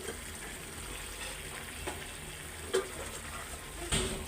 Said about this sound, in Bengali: তো আলু দিয়ে দিছি, এটা ভালো করে কষতে থাকুক